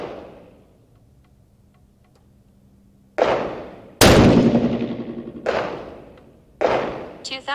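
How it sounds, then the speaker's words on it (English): A 6.5 PRC rifle loaded with IMR7828SSC powder and fired from a bipod at an outdoor range: one loud, sharp shot followed by a long rolling echo, with several fainter cracks from other shooters nearby. "We're going to shoot it on the second dot."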